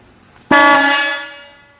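A single loud, brassy trumpet horn on a 1936 Packard Model 1401 Victoria Convertible sounds abruptly and rings for about a second before fading out.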